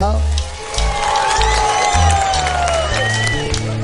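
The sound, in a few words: studio audience clapping and cheering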